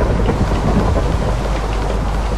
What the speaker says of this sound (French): C'est très gai cet orage. C'est digne d'un film d'horreur.